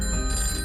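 A telephone rings with a continuous electronic trill, close and clear, with no voices.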